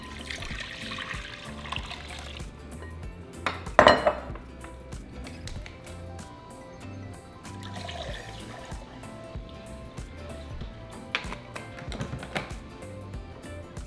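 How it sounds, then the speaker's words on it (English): Broth pours into a large bowl for a shrimp cocktail, a steady liquid trickle and splash running through with a sharp clink near the start and occasional soft knocks, close and moderately loud. "in a large bowl, we're going to add 3 cups of our broth"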